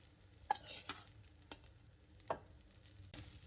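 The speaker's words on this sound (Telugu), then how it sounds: "ఇదంతా కూడా ఆ పొడి అంతా కూడా రైస్లోకి మిక్స్ అయ్యేలాగా కలిపేసుకుందాం" A spoon stirs white rice mixed with tamarind pulihora powder in a pan. Quiet, scattered scraping strokes with soft clinks come at irregular intervals over a faint, low sizzle.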